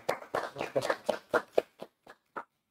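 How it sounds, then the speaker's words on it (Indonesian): A small group of people gives a short round of applause after a presentation, their claps landing in a loose, distinct rhythm that slows and thins out into a few final isolated claps. "Luar biasa, tepuk tangan dulu teman-teman."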